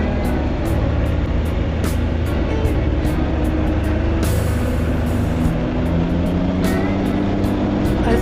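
A Can-Am Ryker three-wheel motorcycle rides a scenic road in Slovenia, its engine a steady, loud drone mixed with heavy wind rush. There are occasional brief bumps and no talking.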